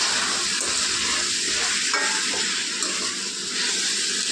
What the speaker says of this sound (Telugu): ఉల్లిపాయలు, బెండకాయ ముక్కలు, పసుపు, ఉప్పు అంతా కలిసేలాగా మనం కలిపేసుకుందాం